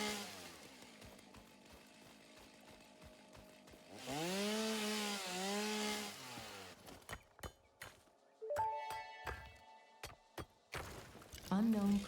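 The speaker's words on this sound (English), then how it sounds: "I feel like there needs just to be a audio slider specifically for chainsaw." Chainsaw in the Satisfactory video game, a loud buzzing saw whose pitch rises and wavers as it cuts, among sharp clicks and bursts of game sound, with a voice talking.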